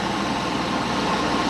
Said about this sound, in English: There's a tractor in my yard bringing in hay.